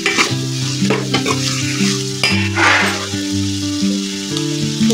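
Frying and stirring in a pan while cooking a masala stuffed cluster bean curry, with a steady sizzle and stirring scrapes under louder background music throughout.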